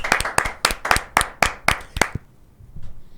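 A short burst of hand clapping, several people applauding with sharp, rapid claps that stop abruptly, followed by quiet.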